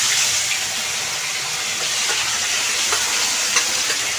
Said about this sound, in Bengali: এখানে দেখো মাছ আমার অর্ধেক ভাজা হয়ে গেছে